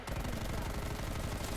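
Rapid automatic gunfire from a video game, a dense continuous burst of shots that stays loud and steady throughout with no talking.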